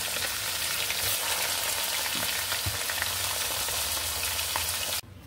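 Pieces of hilsa fish fry in hot oil in a wok, giving a continuous, even sizzle with occasional pops that cuts off abruptly near the end.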